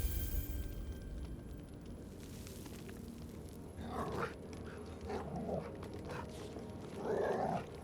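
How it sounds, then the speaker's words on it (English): A dog in Baldur's Gate 3 pants around a ball held firmly in its mouth, giving soft muffled huffs and a few louder breathy bursts toward the end, with a low ambient game hum underneath. "Dog pants through a ball held firmly in his mouth."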